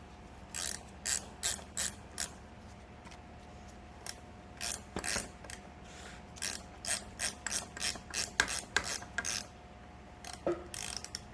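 Ratchet wrench loosening 9/16 inch nuts on an 1883 Singer Improved Family sewing machine, with repeated close bursts of rapid clicking in short strokes and brief pauses between them, alone without talk.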